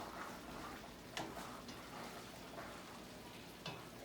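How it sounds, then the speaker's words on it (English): Steak pieces sizzle and fry in a pot as they're stirred and browned for a homemade stew, a steady faint crackle broken by occasional scraping clicks of the spoon. "You wanna make sure that you're stirring, so you wanna hold that like such, like this, and you just wanna kinda stir the meat around"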